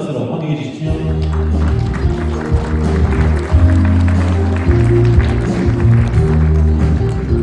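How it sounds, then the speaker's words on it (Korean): An awards-ceremony audience at the 2017 KPGA Genesis Awards in the Grand Hyatt Seoul ballroom applauds to welcome donation presenters, with steady clapping under loud, sustained stage music. "여러분 따뜻한 박수로 환영해 주시죠"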